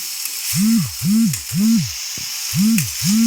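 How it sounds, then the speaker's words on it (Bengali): Shredded cabbage with tomato sauce sizzles steadily in a hot pan, a close hissing fry broken by regular scraping strokes of a spoon stirring it, with faint speech in the background. "দিয়ে আমি ভালো করে কিন্তু আমি বাঁধাকপিটাকে নেড়ে নিচ্ছি, সুন্দর করে আমি নেড়ে নিচ্ছি।"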